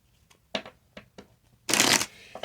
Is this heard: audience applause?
no